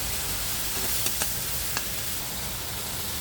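Spice paste loosened with a little water frying in a pan with dried fish added: a steady, soft sizzling hiss throughout, broken by a few faint clicks of stirring.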